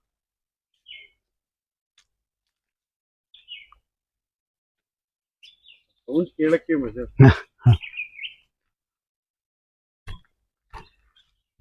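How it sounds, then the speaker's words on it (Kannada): Scattered bird chirps and calls from various species on a natural farm, short and fairly faint, spaced across the scene, with a person speaking briefly in the middle. "ಬಹಳ ಬೇರೆ ಬೇರೆ ತರದ ಪಕ್ಷಿಗಳು"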